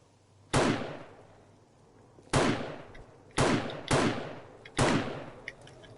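Five sharp gunshots ring out in the video game 7 Days to Die, loud single reports spaced irregularly, each with a short decaying tail, and no talk over them.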